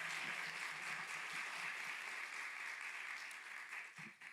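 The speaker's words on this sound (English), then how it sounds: "would you please join me in giving a round of applause?" Audience applause at a PA program graduation ceremony, a steady dense wash of many hands clapping that holds evenly before thinning and fading out near the end.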